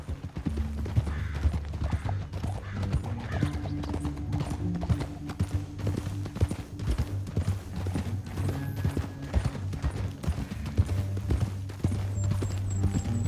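Rapid rhythmic hoofbeats of horses galloping continuously in the video game Red Dead Redemption 2, with an occasional whinny and a low background drone.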